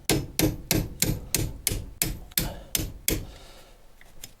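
Hammer blows knocking out a corroded brake pad pin on a Lotus Evora front brake, about nine sharp metallic strikes at a steady pace, close and loud, fading into quiet handling at the end.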